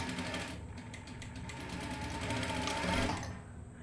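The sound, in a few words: sewing machine stitching bias cross piece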